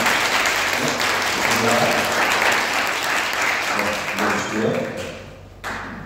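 A church congregation stands and applauds visiting parents during a Sunday service, giving a dense, sustained roar of clapping throughout, with faint voices mixed in before a brief dip near the end.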